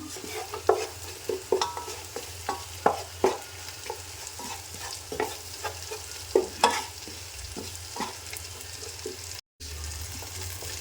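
Mutton masala being fried and stirred in a pan for a coconut-milk mutton roast: a steady sizzle with repeated scraping stir strokes at an uneven rhythm, close and fairly quiet, with no talk.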